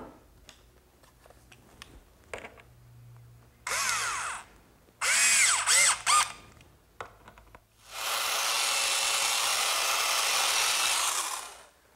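A power drill whirs in several short bursts driving screws into the rails of a bedside table, with clicks and handling taps between, ending in a longer steady whine.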